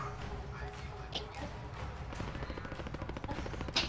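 Gunfire in a Warzone Plunder match, a steady run of rapid shots close by with some sharper bursts over game noise, and a voice speaking over part of it.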